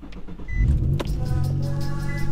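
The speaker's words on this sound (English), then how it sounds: "So we're gonna go ahead and start the car right now," An Infiniti G35 engine cranks and catches at about half a second, then settles into a steady, close idle with a loud, even hum after the starter burst.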